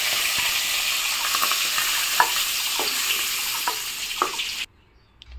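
Shrimp frying in hot oil give a loud, dense sizzle with light scraping taps as they are lifted out, and then the sound abruptly cuts to near quiet at the end.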